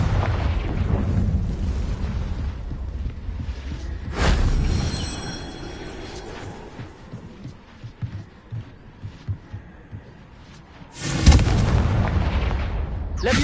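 Confringo fire-spell blasts in the Hogwarts Legacy video game, two loud explosive bursts separated by a stretch of lower rumbling and crackling battle noise, with no talking.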